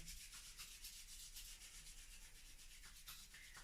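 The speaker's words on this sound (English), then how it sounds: "And just beginning to rub those hands together." Palms rub briskly together during a seated chair yoga class, a soft, close, rhythmic swishing friction repeated in quick strokes, faint and with no voices.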